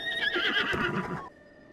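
A horse at the Twin Stable in The Legend of Zelda: Breath of the Wild lets out a single loud, close neigh with a faint hoof clop beneath it, then the sound cuts off, leaving quiet game ambience.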